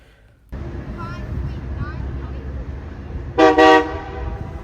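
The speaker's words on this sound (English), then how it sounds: "heard that double horn there, although that doesn't sound like from the Metrolink itself" A double horn honk sounds at Fullerton train station, two loud harmonic blasts close together near the end, rising over steady station rumble and background noise; not from the Metrolink train itself.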